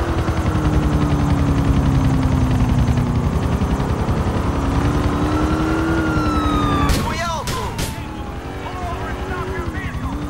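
An army helicopter's rotor thumps steadily and loudly with a whining engine in Grand Theft Auto, joined midway by brief bursts of rapid gunfire.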